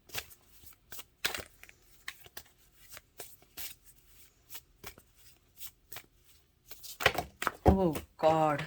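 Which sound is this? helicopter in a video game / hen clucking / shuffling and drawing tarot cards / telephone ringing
shuffling and drawing tarot cards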